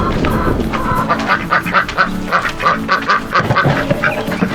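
Chickens being returned to their coop give repeated loud, honking clucks and squawks in an uneven rhythm, close to the microphone.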